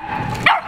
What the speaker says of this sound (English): That was an Australian Shepherd Corgi mix.